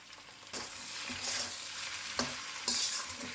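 Chicken and egg sizzling in a pan for chow mein, a steady close frying hiss with a few sharp scraping strokes of stirring, no voices.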